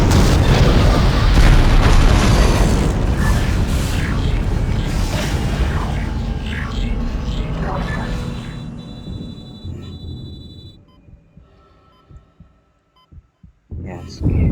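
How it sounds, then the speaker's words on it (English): Huge, rumbling blasts and debris roar from the exploding spaceship Valor in the video game Dead Space, loud and dense for about ten seconds before thinning into scattered bangs and a final boom. "It's already blowing itself up."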